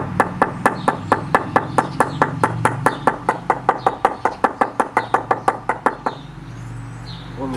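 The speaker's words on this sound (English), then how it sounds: "Still needs a little bit more of a knock." Steady rhythmic knocking on a porcelain paving slab being tapped down level, about thirty evenly spaced sharp thuds close by, then stopping.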